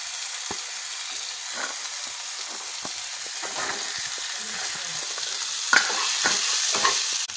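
Onion frying in a pan with tomato and potato added, a steady sizzle under repeated scraping stirs of a spoon, close up and with no voices.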